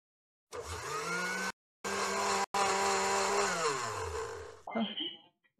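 A countertop blender whirs loudly as it blends radish and strawberry into a smoothie, the motor rising and shifting pitch over several seconds with two brief pauses, then stopping as a voice follows.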